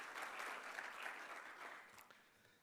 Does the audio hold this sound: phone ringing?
no